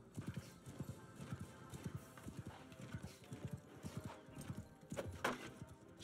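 Horse hooves clip-clop in a steady trotting rhythm in the fantasy video game Realm of Thrones, with a short whinny near the end, moderately close and a little muffled.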